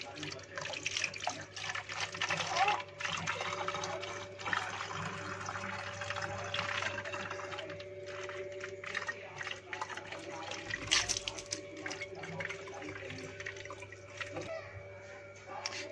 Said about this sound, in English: Now we pour the water in the plastic bottle.